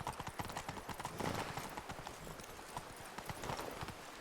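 Hooves of Roach, a horse in The Witcher 3, clip-clop in a steady galloping rhythm, close and fairly loud, with a brief whinny-like rise midway.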